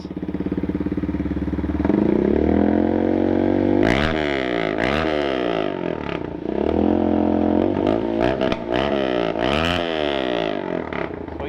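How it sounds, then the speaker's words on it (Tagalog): A GPR250 motorcycle with a straight pipe exhaust and stock carburetor revs loudly and close by, with repeated throttle blips rising and falling over a steady idle and no talk. "Sound check po natin yung motor niya."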